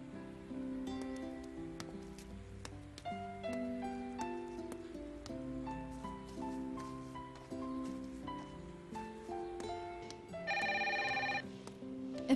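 A telephone rings in a home during a holiday visit, a short bright burst of ringing near the end that sits over steady tonal background music.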